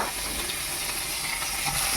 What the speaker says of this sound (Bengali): তো মাছগুলো আবার ভেজে নিচ্ছি